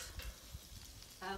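Potatoes sizzle faintly in a pan over a wood fire pit, a soft crackling fry with low thumps, and a brief tonal buzz near the end.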